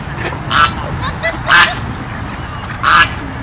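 A goose honks three times, loud and close, each call a short nasal blast spaced about a second apart over a soft background murmur.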